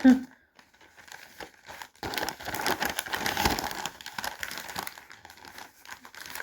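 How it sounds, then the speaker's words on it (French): Paper crinkles and rustles close by while a gift is wrapped, the busy crackling swelling into a dense middle stretch and then easing off, with a voice speaking briefly near the start. "On va emballer d'abord comme ça"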